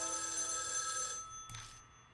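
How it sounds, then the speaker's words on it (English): A telephone rings in the next room in the game Spirit Hunter: NG, a trilling bell that stops partway, followed by a brief clatter, no talking. "Suddenly, the phone from the next room rings."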